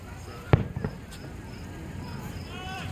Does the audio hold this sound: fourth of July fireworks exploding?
yes